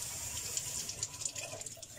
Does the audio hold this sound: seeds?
no